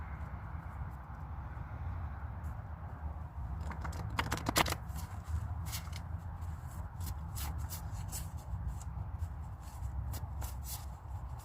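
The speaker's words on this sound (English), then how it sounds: "Let's pull some message cards real quick, see what we got." Message cards being shuffled for a card reading, a steady soft riffling and rubbing that runs throughout at close range, with a brief louder flurry partway through and no talk.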